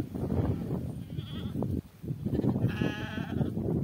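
Goats, a buck among them, and sheep grazing on a small grassy hill give a brief bleat and then a longer wavering one, close by amid rustling and low background noise.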